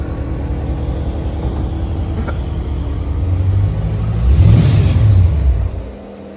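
A 1984 Chevrolet Corvette C4 engine runs steadily, its low rumble swelling louder and fuller for a few seconds before easing back to a quieter idle, with no voices.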